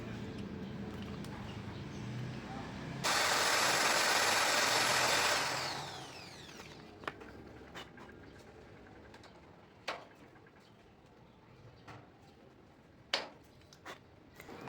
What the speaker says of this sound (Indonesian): Untuk bagian gear ini nanti diberi lubang di bor tembus terhadap as conveyor.